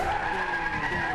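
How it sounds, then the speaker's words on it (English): Tires squeal continuously as a car drifts in the Gran Turismo 6 racing game, a loud sustained screech over engine roar throughout, with no voices. "It's a fun drift, and it's a very controllable drift"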